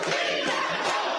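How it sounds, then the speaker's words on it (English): A packed crowd at a high school forum on housing migrants voices loud opposition, a dense, continuous roar of many voices shouting together throughout. "The crowd voicing their opinion, strongly opposing the addition of migrants in their community."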